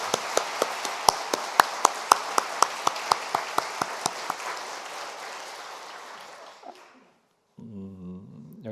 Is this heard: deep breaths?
no